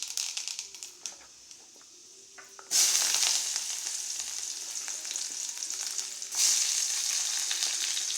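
Mustard seeds crackle and sizzle in hot oil in a pan, a steady close hiss that surges loudly twice, with no talking.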